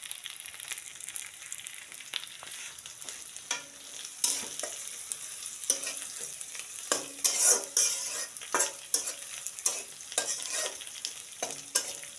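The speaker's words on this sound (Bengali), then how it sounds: "আমি বেরেস্তা রেডি করছি, তেলে দিয়ে দিব" Onions frying in oil for berista, a bubbling sizzle with repeated scraping stirs of a spatula against the pan, close up and uneven in rhythm.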